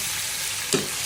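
Steady sizzling of garlic sautéing in a hot pan, with a brief stir or clink partway through; no voices.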